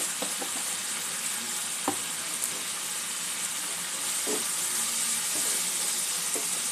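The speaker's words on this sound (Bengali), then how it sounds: "মশলাটা আরো মিনিট খানেক আমি একটু কষে নেব।" Spice paste (masala) for a katla fish curry fries in a pan with a steady, bright sizzle, broken by a few soft stirring knocks and scrapes, close and continuous, with no talking.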